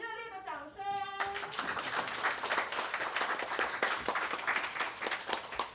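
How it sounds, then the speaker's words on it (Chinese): Audience applause at a signing ceremony for a hospital cardiology partnership in Tainan. A brief chiming tone opens, then dense, steady clapping continues throughout. "让我们给予热烈的掌声"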